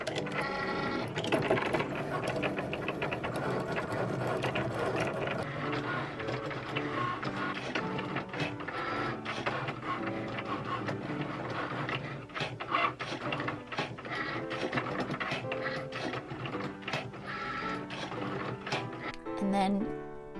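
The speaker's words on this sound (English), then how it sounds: "we're just going to let the Cricut do its thing" A Cricut machine cutting and writing on cardstock, a continuous mechanical whir with rapid clicks and carriage movements throughout, heard under a voice talking.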